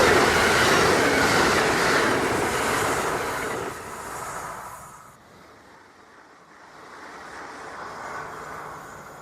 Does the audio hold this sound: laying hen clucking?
no